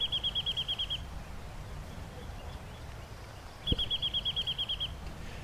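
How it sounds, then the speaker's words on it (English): A wrentit in chaparral gives two runs of rapid ping-pong-ball notes, each series bouncing and slowing down. The bird sounds clear and fairly close over a quiet outdoor background. "wrentits, which have an easy-to-remember call that sounds like a slowly decelerating ping-pong ball."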